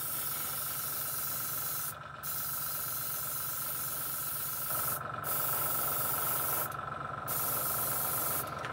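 Airbrush spraying lacquer paint onto a Corgi Bedford die-cast tractor unit, a steady close hiss of air with a few brief gaps where the flow stops, then the spraying resumes.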